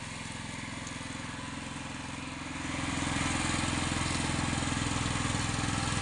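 A riding lawn mower's small engine runs at a steady idle, then rises a little in pitch and loudness as it is lightly throttled up, rumbling close by.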